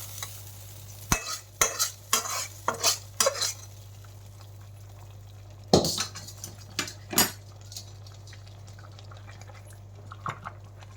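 Half-boiled meat is stirred in a cooking pot, with a series of sharp scraping and clanking strokes of a utensil against metal in uneven bursts, separated by quieter stretches over a steady low hum.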